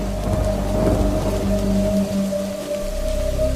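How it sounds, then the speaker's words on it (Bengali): Heavy rain pours down with low rumbles of thunder, a dense, steady roar beneath a sustained low tonal hum. "হঠাৎ ঝমঝম করে বৃষ্টি শুরু হলো"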